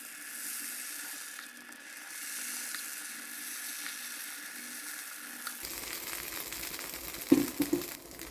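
Sweet kuzhi paniyaram batter cooking in ghee in a paniyaram pan, a steady soft sizzle that grows busier midway, with a few clinks of a utensil near the end and no talk.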